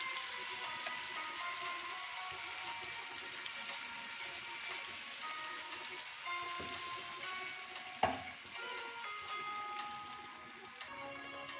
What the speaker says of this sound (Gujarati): આપણું તેલ છૂટું પડે ત્યાં સુધી આપણે સોતળશું